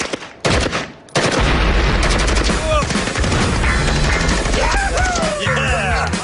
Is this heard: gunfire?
yes